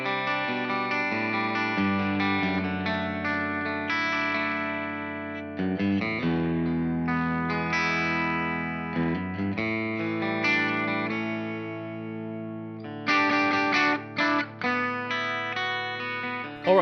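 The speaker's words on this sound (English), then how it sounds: "the delay and reverb effects you'll be hearing are coming courtesy of a Line 6 HX effects" Electric guitar played through a Mezzabarba amplifier with Line 6 HX delay and reverb in the effects loop, ringing chords and lead notes with long echoing tails, played alone and steady, with a few choppy staccato bursts near the end.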